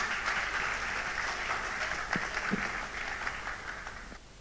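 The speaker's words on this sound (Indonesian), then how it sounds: "Mari kita berikan tepuk tangan yang meriah" Audience applause for a school choir at a grade 9 farewell ceremony in Indonesia, a steady wash of many hands clapping that carries on for about four seconds and tapers slightly at the end.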